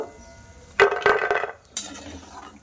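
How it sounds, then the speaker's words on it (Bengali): Crisp deep-fried flour snacks being lifted from a pan onto a plate, giving two close bursts of clattering and clinking of utensil against dish, with no talking. "এবার আমি প্লেটে তুলে নেব"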